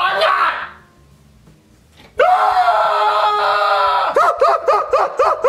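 A child's shrill scream in a comedy sketch, loud and sustained for about two seconds and breaking into rapid yelps at the end, after a brief cry and a quiet pause.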